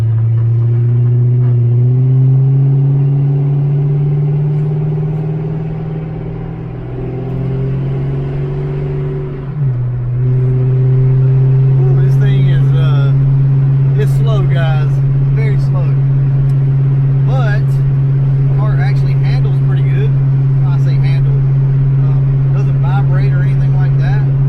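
An old project car engine idles loudly and steadily at close range with a deep, even drone, dipping briefly before settling back, while people talk over it.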